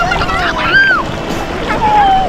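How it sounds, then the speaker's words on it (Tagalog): Strong sea waves roll and crash at a swimming beach, a continuous broadband rush of surf and splashing water, fairly loud and close, with faint voices in the background. "Oh, lakas yung alon oh."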